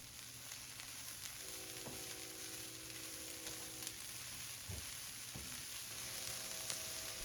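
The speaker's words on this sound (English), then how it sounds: "Add your chives next. Stir for a few seconds." Chopped chives sizzle steadily in a hot pan of oil, a continuous close frying hiss with a few brief stirring scrapes, accompanied by a faint background hum, while cooking crispy lentil oat bites.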